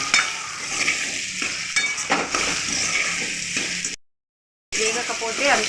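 Bitter gourd frying in a little oil, a dense crackling sizzle with stirring scrapes that cuts out to brief silence and returns, a voice talking over it.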